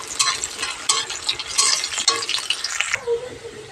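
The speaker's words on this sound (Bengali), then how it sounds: "আমি এখানে দেখো ফোড়নে দিয়েছি পেঁয়াজ আর এই যে তেজপাতা" Sliced onion and bay leaves fry in hot oil in a pan, giving a loud, close, steady sizzle with crackling bursts that eases to a softer hiss near the end.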